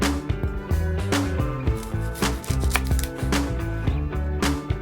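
A knife rhythmically chopping shallot on a board for a baked steelhead fillet recipe, with quick close strokes in runs over steady background music.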